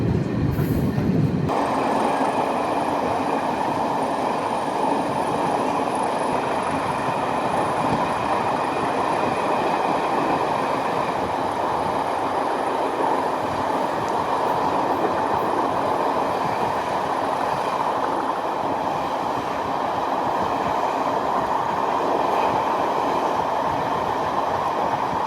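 A Metropolitan heritage train running on the London Underground, a loud continuous rumble and rattle of carriages on track heard from on board, steady and close throughout.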